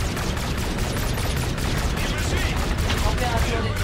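Sustained automatic gunfire from a space-combat sequence in the shooter Call of Duty: Infinite Warfare, dense and loud, with overlapping rapid bursts hammering continuously.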